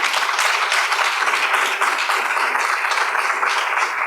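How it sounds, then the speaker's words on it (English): Sustained audience applause fills a business forum, many hands clapping steadily at even loudness for several seconds with no talking over it. "why don't we give them a nice round of applause?"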